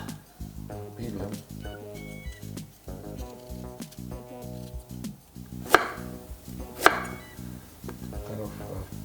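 Brisk knife dicing garlic on a board, repeated rapid taps with two sharper knocks midway, under steady background music.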